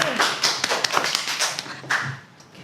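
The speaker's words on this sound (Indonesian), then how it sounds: "Ayo tepuk tangan." A classroom of pupils claps, a dense, close burst of quick overlapping hand claps that thins out and fades toward the end.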